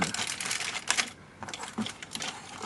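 The plastic legs of a DX Tategami Lioh Go-Busters toy robot fold up with a quick run of close, dry clicks and ratchet-like snaps, loud and uneven over a couple of seconds.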